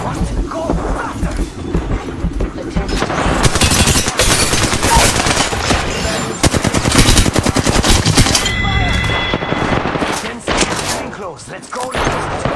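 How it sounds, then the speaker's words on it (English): Rapid automatic gunfire in Apex Legends on Nintendo Switch, long fast-rattling bursts with scattered single shots, loud and close, with game voice lines and chatter underneath. "Getting shot at."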